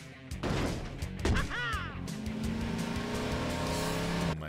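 A cartoonish Luigi car driving effect: a loud engine whine rising and holding steady after a couple of sharp skids and bumps, close and continuous for several seconds.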